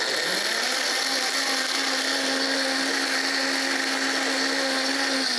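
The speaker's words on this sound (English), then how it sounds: "You can use a smoothie blender." Smoothie blender blitzing pickled jalapenos in their pickling juice: a steady, loud motor whine that spins up quickly and holds an even, unbroken roar throughout, with no talking.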